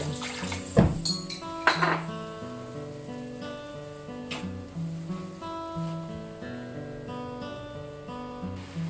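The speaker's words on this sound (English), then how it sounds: "Add in some water." While Cantonese-style fried noodles cook, a metal pan and utensils clank and clink sharply at first, then settle into quiet scraping, with soft water sounds and no talking.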